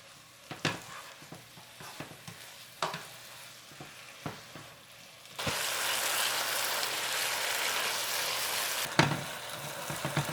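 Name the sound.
stir-frying spinach and shiitake mushrooms with oyster sauce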